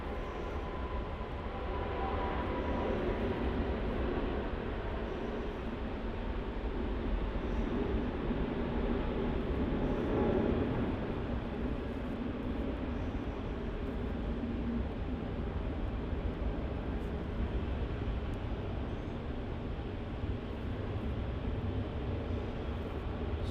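Emirates airliner on flight EK409 departing Melbourne Airport for Dubai, a steady broadband jet roar that holds fairly loud and constant throughout, swelling slightly midway, with no talk over it.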